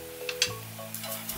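Chopped shallots stir-frying in a pan give a brief quiet sizzle with a few light clicks of stirring, close and short.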